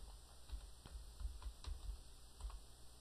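Typing on a computer keyboard, a short burst of soft irregular key taps, faint and close, with a low steady background hum and no voice.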